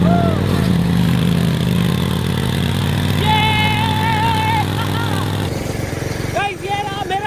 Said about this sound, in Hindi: गाइस ये रहा मेरा ट्रैक्टर और रहा उसका ट्रैक्टर और वो रहा गोविंद का ट्रैक्टर